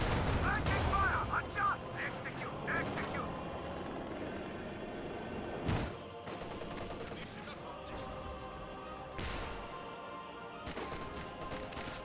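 Company of Heroes 2 battle gunfire crackles in scattered bursts and distant booms of artillery and machine guns, mixed with game effects under a commentator's voice.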